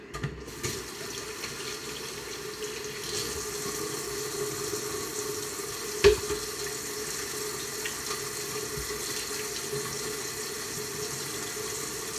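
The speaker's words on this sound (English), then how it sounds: "Now I've touched the raw meat, I will wash my hands." Hands being washed under a running kitchen tap after handling raw meat: a steady, continuous stream of water splashing into a sink, with a faint hum beneath and one brief knock partway through.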